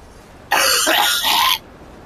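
A single harsh cough burst, close and fairly loud, lasting about a second, with quiet room background before and after.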